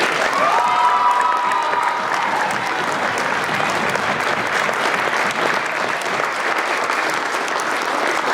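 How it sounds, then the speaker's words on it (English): A school audience at a middle school drama performance breaks into loud, sustained applause with cheering and whoops, dense clapping holding strong throughout, a brief shout rising early on. "Give them a round of applause."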